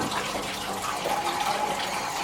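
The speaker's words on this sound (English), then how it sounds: "Quite a lot of water in the boiler." Water gushing and splashing steadily out of an old boiler as it is disconnected and removed from a boiler room, a continuous close rush of liquid with no talk.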